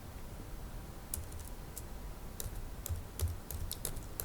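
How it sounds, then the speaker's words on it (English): Someone types on a computer keyboard while entering a database update, producing scattered, uneven key clicks that come close and clear against a quiet room hum, with no voices. "so we type"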